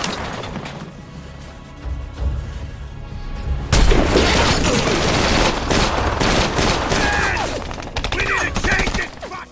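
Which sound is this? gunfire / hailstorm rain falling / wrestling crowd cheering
gunfire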